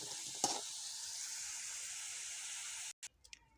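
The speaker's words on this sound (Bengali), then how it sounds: "আলুগুলো বাদামি করে ভাজা হয়ে গেছে।" Potatoes fry in a pan for a Bengali poultry meat lotpoti recipe, giving a steady broadband sizzle that holds for about three seconds, with a brief knock near the start and a few clinks after the sizzle cuts off.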